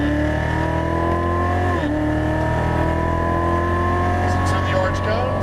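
A Chevrolet Corvette Z06 Stingray accelerating on a track, heard from inside, its engine droning steadily and climbing through the gears with a shift partway through, while a voice talks over the engine.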